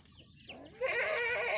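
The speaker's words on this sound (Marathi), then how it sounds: "कोंबड्या सुद्धा आहेत" Chickens on a goat farm with a shed cluck and squawk close by, a short rising call followed by a dense burst of excited clucking, fairly quiet overall.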